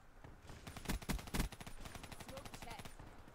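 Gunfire in Call of Duty Black Ops III: rapid automatic bursts crackle close and loud, with a few heavier shots standing out early, then a continuous stream of quicker rounds.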